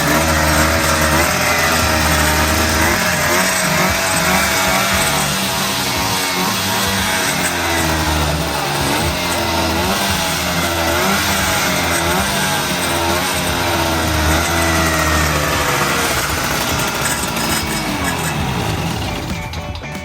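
A small two-carburetor boat engine roars steadily and loudly for the whole stretch, a harsh buzzing drone with slight shifts in pitch, like an outboard motor running hard.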